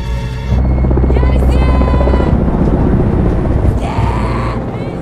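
A helicopter in flight in a film scene, a loud steady rotor roar with engine whine throughout, rising slightly near the end with no speech.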